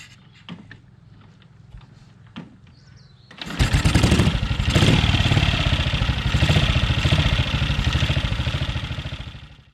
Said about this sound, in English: As I ride through the village of Helpston, I noticed up ahead Barry